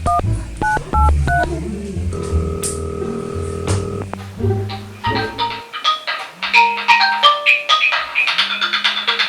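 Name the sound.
telephone dialing tones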